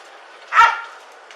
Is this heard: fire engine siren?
no